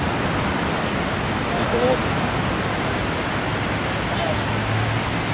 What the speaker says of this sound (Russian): Море шумит вечернее, андаманское